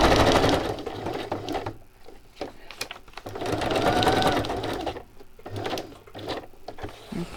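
Sewing machine stitching a zigzag stitch on fabric for a mini journal, a close rapid whirring hum in bursts that start, stop and restart with brief pauses between runs.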